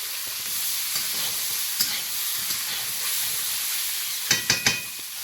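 Pointed gourd and shrimp fry with tomato and green chili in a pan, giving a steady loud sizzle with a few light stirring clatters and a short burst of sharp taps near the end.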